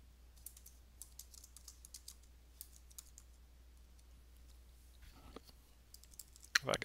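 Sparse keystrokes tap on a computer keyboard in a quiet room, scattered single clicks with pauses between them, followed by a quick louder burst of typing near the end.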